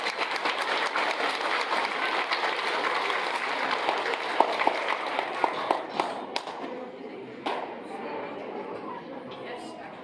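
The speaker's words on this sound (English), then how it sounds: "applause for them" A school audience at a junior high band fall concert applauds steadily, a dense wash of clapping that thins into scattered individual claps near the end.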